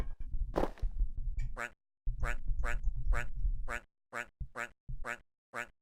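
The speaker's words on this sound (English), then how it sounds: "Is that a duck call?" A duck call in the Outerworlder colony-building game gives a series of evenly spaced, nasal quacks, loud and close, following a stretch of noisy game sounds.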